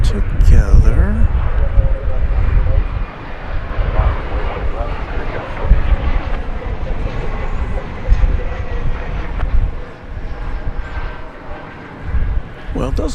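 A Finnair airliner taking off from runway 18 left at DFW Airport roars loud and close with a broad, sustained engine rumble and whine that swells and lingers throughout.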